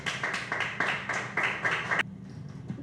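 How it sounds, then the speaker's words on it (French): Audience applause at a 2020 launch event for Mister King Haïti et International, a crowd clapping in fairly steady bursts for about two seconds before it cuts away to a quieter room. "Sous vos applaudissements"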